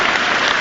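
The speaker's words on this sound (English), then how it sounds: "A minute's applause for the late Craig Shakespeare." A stadium crowd at a Leicester versus Spurs Premier League match applauds for a minute in tribute to the late Craig Shakespeare, a dense, steady roar of clapping with no break.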